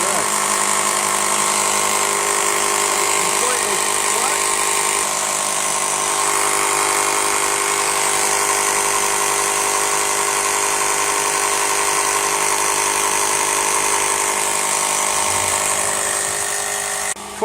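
A battery jump starter's built-in air pump runs continuously while inflating a car tyre, giving a steady, close mechanical whir and hum that holds at an even level throughout.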